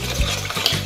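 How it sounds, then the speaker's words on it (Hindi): Spices and salt being stirred into pani puri water, a soft, steady swishing with a faint liquid churn, close and fairly loud throughout a brief moment. "और इन सभी चीज़ों को अच्छे से कर देंगे मिक्स।"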